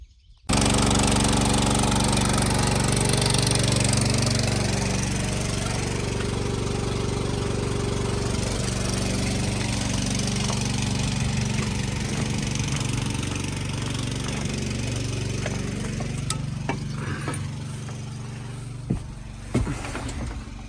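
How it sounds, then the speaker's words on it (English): A tractor engine starts and runs at a loud, steady idle for a long stretch, with a few faint clicks and knocks near the end. "Let's fire up this tractor."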